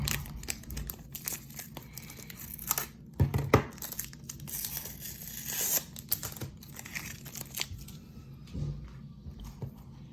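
A heavily taped mail package of trading cards is torn open close up, with repeated ripping and crinkling of tape and packaging in uneven bursts throughout.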